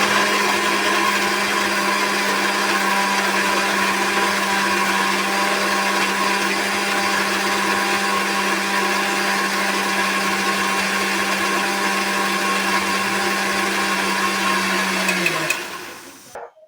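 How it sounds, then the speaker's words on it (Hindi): A kitchen mixer grinder whirs at a loud, steady pitch for about fifteen seconds while grinding a single roti into a paste, then winds down and stops abruptly. "फिर मिक्सी में पीस कर पेस्ट बना लेंगे"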